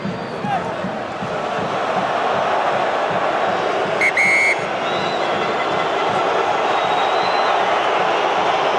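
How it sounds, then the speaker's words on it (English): A rugby stadium crowd at a 2014 Six Nations match between France and Italy boos in a loud, sustained roar, with a brief whistle blast cutting through partway. "The crowd boos, as if they don't enjoy watching this."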